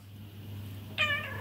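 A hungry domestic cat gives one short, clear meow near the end, close by over a steady low hum in a quiet room, with no talking.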